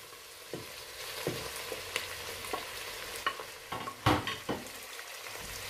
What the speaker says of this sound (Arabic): بزالية مجمدة طبعا بسرعة تستوي. راح نحمسها.